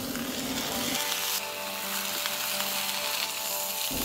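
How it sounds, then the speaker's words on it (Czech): Salmon sizzles on a hot griddle with olive oil, a steady close frying hiss with crackle that runs the whole time, under a faint background hum. "Na tál si vložíme lososa."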